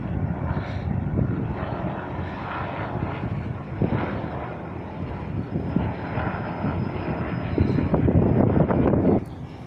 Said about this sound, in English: we have a helicopter going over